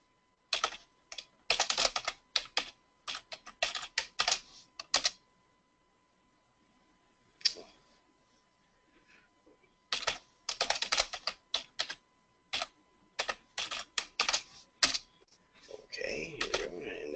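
Quick bursts of clicking keystrokes on a computer keyboard, close and crisp, come in two separate runs with a pause between them, followed by a faint shuffle at the end.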